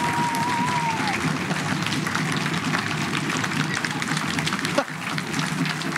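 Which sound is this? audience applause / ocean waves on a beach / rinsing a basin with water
audience applause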